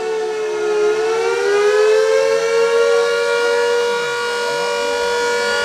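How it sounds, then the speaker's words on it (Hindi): A civil defense air raid siren wails loudly and steadily during a mock drill in Shimla, its pitch rising slightly then holding in a long sustained tone with rich harmonics, no voices. "हमला होने वाला है उससे पहले का जो है सायरन यहाँ पर बजाया गया है।"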